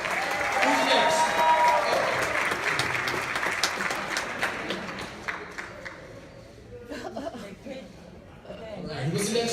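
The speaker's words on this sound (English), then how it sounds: "One more round of applause." Enthusiastic applause from a crowd at a youth school jazz performance that gradually thins to scattered claps, with voices and chatter rising underneath as it fades.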